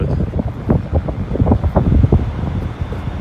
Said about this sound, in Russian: Не знаю, как там меня слышно,